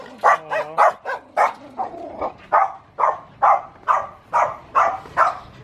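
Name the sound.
dog barking on a street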